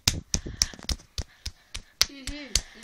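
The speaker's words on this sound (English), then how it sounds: "Let's give him a clap" A handful of sharp, separate hand claps land at an uneven pace, close by, amid quiet voices talking.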